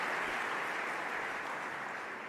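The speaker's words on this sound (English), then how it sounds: "I just tried to introduce myself over your applause" A large awards-ceremony audience at the IGF Awards claps steadily in a dense, even wash of applause that carries on without a break, heard alone without speech.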